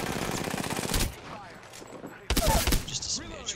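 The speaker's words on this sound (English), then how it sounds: "Ladies and gentlemen, I'm taking fire." Automatic gunfire in the Apex Legends video game comes in two rapid bursts, a sustained volley at the start and a second sharp burst later, with quieter game noise between.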